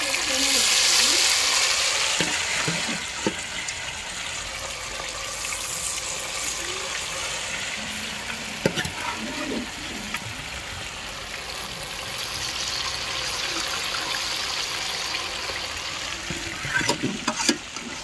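Big pieces of marinated chicken 65 fry in a large pan holding about a kilo, sizzling steadily and loudly at close range, with occasional stirring clatter and someone speaking at times.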